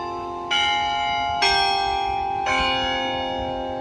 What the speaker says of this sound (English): It's known best for its ringing bells